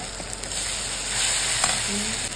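Turmeric, coriander, chicken masala and Kashmiri red chilli fry in a pan with a close, continuous sizzle and a few soft scrapes of stirring.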